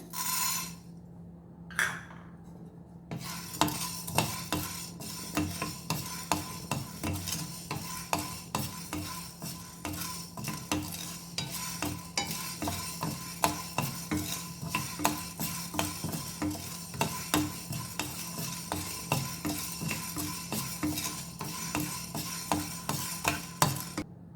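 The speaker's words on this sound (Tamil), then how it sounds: "அடுத்தது வந்து மிளகை வறுத்துக்கிறேன்." Black peppercorns are dry-roasted in a pan for rasam powder, giving a close, busy rattle of a spoon scraping and stirring in quick strokes, with a faint crackle beneath and no voices.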